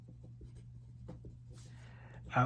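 Pen or marker scratching out equations on a board or paper in short strokes, faint and close, over a low steady hum.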